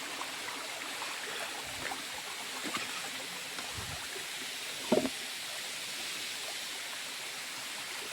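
Water of the Chakratirtha waterfall rushes in a steady, moderately distant roar, a constant broad wash with a few faint knocks and a brief bump partway through, and no talking.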